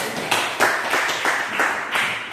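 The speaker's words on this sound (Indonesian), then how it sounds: "beri aplaus dulu untuk kelompok 1" Classroom applause for a student group during an Islamic studies lesson on Qur'an and Hadith: a short, steady run of clapping from a small group, with soft evenly spaced bursts lasting a couple of seconds.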